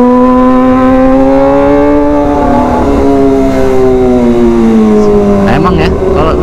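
Kawasaki ZX25R motorcycle revving loudly and close, its high-pitched four-cylinder whine holding steady and then sliding down as the revs drop, with sharper crackles near the end.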